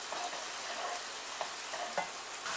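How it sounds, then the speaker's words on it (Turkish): Biber salçası (pepper paste) fries and sizzles in a pan, with a steady crackling hiss broken by soft scraping taps of a spoon stirring it, heard close up with no talk. "Salçanın kokusu çıkana kadar karıştırıyorum."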